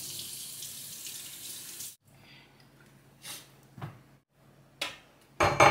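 Tap water runs steadily over pork belly being washed in a sink for a Waray-style crispy lechon belly, a continuous splashing rush that stops, then returns in a few short bursts, louder near the end.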